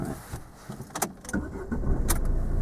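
A car engine starting during a driving lesson, with a few brief clicks and knocks before a low engine rumble rises and settles into a steady idle close by.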